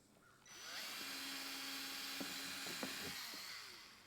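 A power drill bores small pilot holes for screws, whirring steadily close up for several seconds with brief catches and load changes as the bit bites into the box for mounting a plate.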